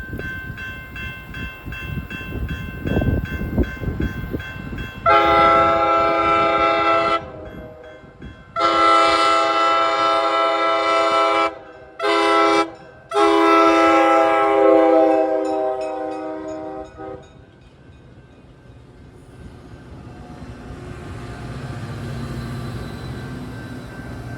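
A train rumbles past with a loud, multi-note horn blaring in several long blasts, then the rumble fades into distant rolling noise.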